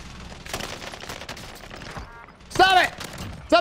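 Gunshots in Call of Duty Warzone Pacific, scattered and moderate at first, then a louder sharp burst near the end, with player voices talking over the shooting.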